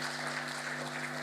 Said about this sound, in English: And you can clap for them, please.